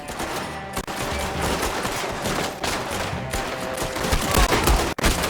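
Dense, continuous rapid gunfire from unfamiliar guns in the Red Dead Redemption 2 video game, a loud fusillade of overlapping shots with bursts like machine-gun fire lasting the whole stretch.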